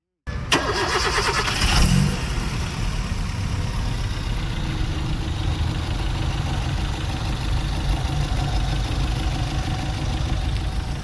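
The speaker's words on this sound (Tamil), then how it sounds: "நெக்ஸ்ட் வண்டியோட இன்ஜினை ஸ்டார்ட் பண்ணி நாய்ஸ் கண்டிஷன் எப்படி இருக்குங்கிறத பார்த்துடலாம்." A Suzuki Swift Dzire car engine cranks and catches, then settles into a steady, close idle that runs evenly to the end.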